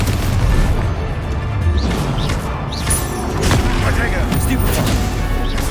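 Confringo explosive spell blasts in Hogwarts Legacy combat, loud booming crashes and bursts layered over continuous battle noise, with other spell effects mixed in.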